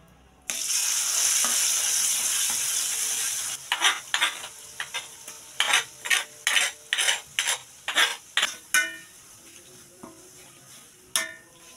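Oil sizzles loudly in a hot wok, then a utensil scrapes and stirs in a rapid series of bursts against the wok, with the sizzle continuing underneath.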